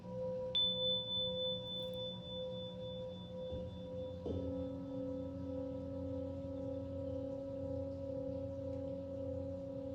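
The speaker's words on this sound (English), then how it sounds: "you're going to hear some tones" Steady meditation tones hum as layered sustained pitches, with a high thin tone entering early and a shift to new pitches midway, alone and fairly soft throughout.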